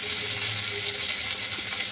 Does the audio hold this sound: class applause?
no